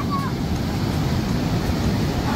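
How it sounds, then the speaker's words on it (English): Ocean surf rolls in steadily at a tropical beach, a constant broad wash of breaking waves with rumbling wind noise buffeting the microphone throughout. "Oh man, big waves coming."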